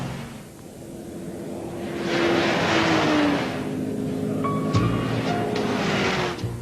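Holden Commodore HSV GTS-R, a VT series 2 with a Corvette-derived LS1 V8 and rear-wheel drive, accelerates hard with a loud, rising engine note that builds over several seconds and holds steady, with no talking.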